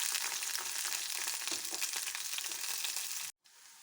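Chilli and onion hit hot oil in a pan and fry with a loud, steady close sizzle that holds for a few seconds before cutting off abruptly.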